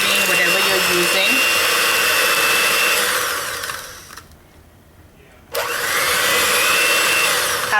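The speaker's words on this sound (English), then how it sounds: "So we're going to be mixing this for about 2 minutes until the sugar and the butter or the margarine" Electric hand mixer creaming butter or margarine with sugar for a Madeira cake batter, a loud steady whir that cuts out for about a second and then starts again at full speed.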